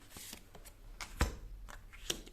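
A deck of playing cards being cut and handled up close, a short run of soft riffling flicks and taps with one sharper snap near the middle, quiet and without talk.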